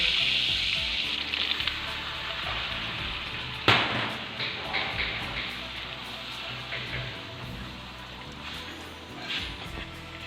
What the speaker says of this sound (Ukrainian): Розтоплюю решту вершкового масла і пасирую борошно. Ретельно перемішую.